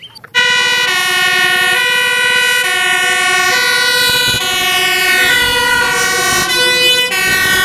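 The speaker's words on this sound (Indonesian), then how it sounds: "Wow, mobil tangki pemadam kebakaran." A red toy fire tanker truck sounds a loud, steady electronic siren, a sustained buzzy tone heard up close and alone for several seconds.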